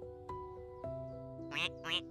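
A small duck quacks at a calm pond, a few short nasal quacks with the last two loudest and closest, heard alone without talk.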